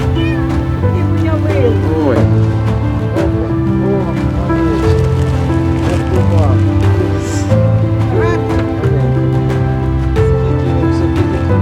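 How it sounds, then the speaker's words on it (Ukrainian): A small kitten meows repeatedly during a humanitarian trip in flooded Kherson region, thin rising cries scattered over a steady rumbling background, while people talk nearby. "Ось таке маленьке кошеня."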